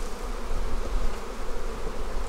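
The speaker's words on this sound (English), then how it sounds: "The other six frames are slam-packed full of bees." A dense, steady hum of many honey bees buzzing together in frames packed full of bees, close and continuous, with no voices.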